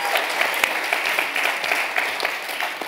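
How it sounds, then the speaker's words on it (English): A concert audience at an Irish folk music performance gives a sustained round of applause, a dense, even patter of many hands clapping throughout. "I'll tell her she got a round of applause in the morning."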